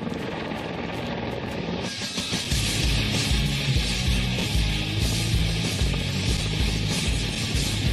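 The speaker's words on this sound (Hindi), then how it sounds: "अपाचे हेलीकॉप्टर्स को अमेरिकी सेना 1986 से इस्तेमाल कर रही है।" An Apache AH-64D attack helicopter gives off a loud, steady whine that shifts into a heavy, rhythmic rotor thump as it draws close.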